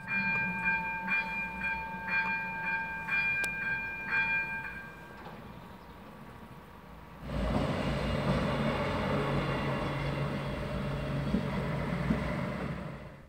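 A train runs along rails, first with a steady tonal whine over rumble, then a louder broad rushing roar of wagons passing close by that continues to the end, with no voices.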